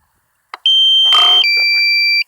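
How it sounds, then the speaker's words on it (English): Sharp electronic warning tone from a drone remote controller, a steady high beep that shifts pitch partway through, loud and close, with a brief click before it and faint breath or speech underneath. "Low battery warning."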